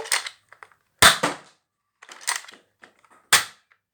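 Nerf Fortnite foam-dart blaster fired outdoors, giving two sharp, loud snapping shots about two seconds apart, with softer clicks and rattles of handling between them and no talk.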